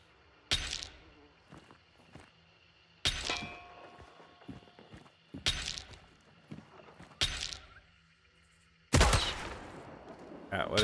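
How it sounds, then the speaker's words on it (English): Drilling hand cannon shots fired in the game Hunt: Showdown: five loud, sharp blasts spaced a couple of seconds apart, each followed by a short ringing tail, with faint clicks and handling noises between shots. "So this is with the drilling hand cannon I got right now."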